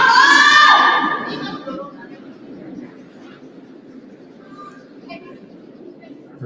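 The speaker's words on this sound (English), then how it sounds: "Heard the scream of whoa right out of hand" A curler's loud shout rings out over the ice at a New Year curling draw in Miyota, a sharp cry in the opening second that fades into a murmuring arena hum.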